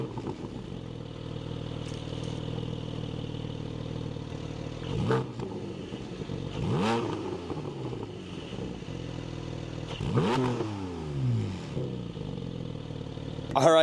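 A Porsche 718 Spyder sports car engine and exhaust, idling steadily and then revving sharply several times with rising and falling pitch, close and loud, with no talk.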